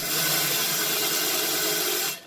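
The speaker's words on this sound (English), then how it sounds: "I like to use the drill brushes and the Bring It On cleaner on all my pots and pans" A spinning drill brush scrubs years of built-up grime off pots and pans with cleaner, a steady close broadband whir and rub running continuously before cutting off abruptly at the end.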